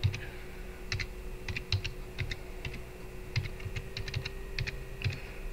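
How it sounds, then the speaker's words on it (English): Typing on a computer keyboard into a web browser, quick irregular clusters of light key clicks with short pauses, close and fairly quiet over a steady faint hum, no talking. "let's go ahead and go to our browser and type in the site we're going to get the theme from"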